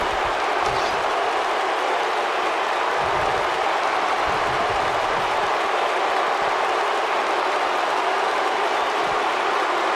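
A sold-out arena crowd cheers during a triple threat wrestling match in WWE 2K19, a steady dense roar of noise that holds without pause throughout.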